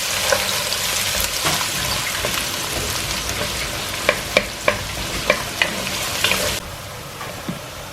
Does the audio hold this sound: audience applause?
no